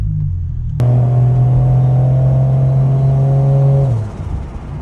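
A Toyota Soarer with a big-turbo 1JZ engine revs hard. A sudden loud, sustained engine roar with a steady high pitch holds for about three seconds, then drops back to a rumbling idle.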